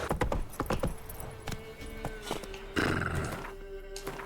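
Roach, Geralt's horse in the video game The Witcher 3: Wild Hunt, snorts and whinnies with hoof clops and tack jingling amid game ambience, a few close, sharp bursts over several seconds.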